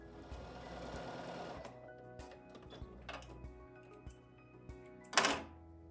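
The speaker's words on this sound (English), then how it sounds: "take them to the sewing machine and stitch them all down" A sewing machine hums and stitches in a fast, steady run, slows to a few intermittent bursts, then a sharp metallic clack rings out near the end.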